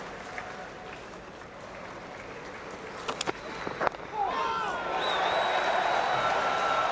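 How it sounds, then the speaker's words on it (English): Crowd at an India vs South Africa cricket Test match bursting into a loud cheer and applause after a few scattered claps, the roar swelling and holding as a broad wash of noise in an open stadium. "A loud cheer goes up in the bull ring as Hashim Amla gets to a 37th Test match half century."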